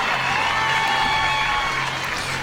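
Crowd in the stands at a night high school football game at Tomahawk Stadium, applause and murmur forming a dense, steady wash throughout, fairly loud and continuous with a faint low hum beneath.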